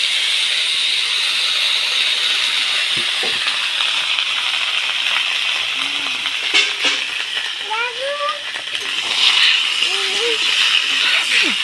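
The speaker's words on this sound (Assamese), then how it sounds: "এতিয়া তেলখিনি পকাৰ পিছত মই গোটা জিৰাকেইটা দি দিলোঁ, তাতে শুকান জলকীয়া দিলোঁ আৰু ভাজিখিনি বহাই দিছোঁ।" Whole cumin seeds and dried red chillies sizzle in hot oil in a home kitchen, a steady bright hiss that runs without a break while someone talks over it.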